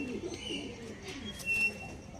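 Andhra star kalka pigeons give soft, low cooing calls close by, with faint chirps and a little background noise and no talk.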